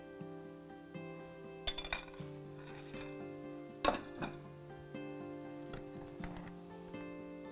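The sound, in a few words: mixing wet and dry cake batter ingredients in a bowl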